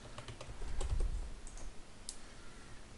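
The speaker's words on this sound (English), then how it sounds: "I typed in the password" A password typed on a computer keyboard: a quick run of close, light key clicks, busiest in the first second and then thinning to a few scattered taps.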